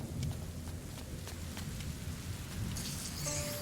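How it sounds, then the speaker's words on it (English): Steady rain falls in a medieval video game scene, a dense close hiss of drops on surfaces with faint rumbles of thunder, continuing evenly without voices. "would you mind if we get out of the rain, please?"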